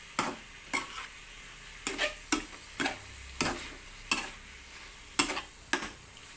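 A utensil scrapes and stirs stir-fried beans with red curry paste in a pan, about a dozen sharp, evenly spaced scraping strokes over a faint sizzle, close and fairly quiet with no talk.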